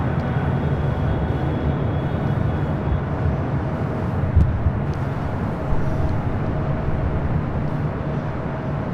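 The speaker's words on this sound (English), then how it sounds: "China Southern Cargo heading to Shanghai, 777 freighter taking off on 25 left." A China Southern Cargo Boeing 777 freighter takes off on runway 25 left at LAX, a steady broad jet roar heard from a distance, constant in level with a couple of faint thumps.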